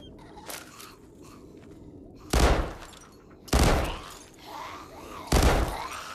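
A shotgun fires at zombies in the VR game Arizona Sunshine 2, with three loud booming blasts spaced about a second apart and a fainter shot earlier, over quiet game ambience.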